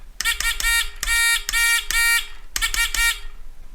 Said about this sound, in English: the radio operator was sending out SOS, which sounds like this.